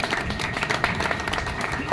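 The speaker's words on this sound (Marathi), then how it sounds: "त्यांच्यासाठी एकदा जोरदार टाळ्या झाल्या पाहिजे." A crowd at a Marathi talk on Lokmanya Tilak breaks into vigorous applause, dense overlapping claps filling the room at a strong, steady level.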